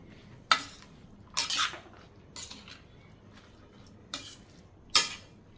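A spoon scrapes and clinks against a pan as a cowpea pod vegetable with a little water is stirred, giving about five short, separate metallic strokes that are fairly faint and spaced out.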